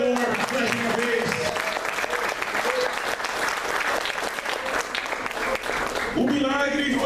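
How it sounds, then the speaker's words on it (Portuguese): A church congregation claps steadily through most of the moment, dense applause rising around a sermon, with a voice and some music-like tones emerging near the end. "Só quem pode aplaudir o Senhor mais uma vez."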